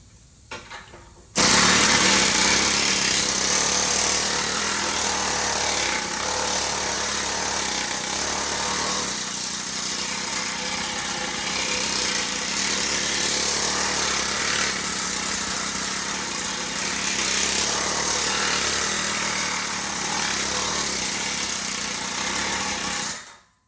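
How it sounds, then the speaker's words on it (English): A Bailey planishing hammer pounds steadily on a motorcycle exhaust pipe, a loud continuous mechanical rattle that runs without pause for over twenty seconds and then cuts off. "I'm gonna go ahead and finish it out here in the Bailey planishing hammer"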